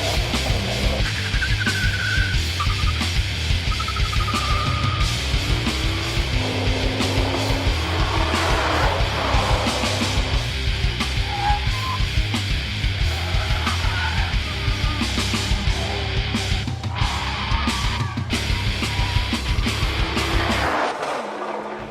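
A BMW 1 Series M Coupe, a small, light M car with a powerful straight six, is driven hard, its engine roaring continuously while tires squeal and skid repeatedly through the run, loud and close throughout.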